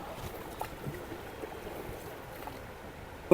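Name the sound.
boat moving on water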